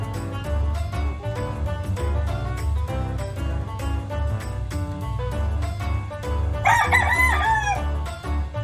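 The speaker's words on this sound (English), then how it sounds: "Mohawk is a Tolbunt Polish rooster" A Tolbunt Polish rooster crows once near the end of the clip, a short harmonic call heard over louder rhythmic background music.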